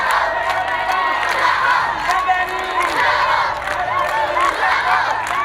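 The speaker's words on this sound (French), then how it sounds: "une foule enthousiasmée qui suffoquait de joie à leur arrivée" In Mapendo village, an enthusiastic crowd greets arriving visitors with loud, continuous cheering and shouting: many voices whooping and calling out together, close and sustained throughout.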